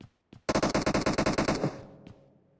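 A rapid automatic burst in the battle royale video game PUBG, about fourteen evenly spaced loud shots in under a second and a half, trailing off into a fading echo.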